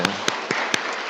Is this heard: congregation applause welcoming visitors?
yes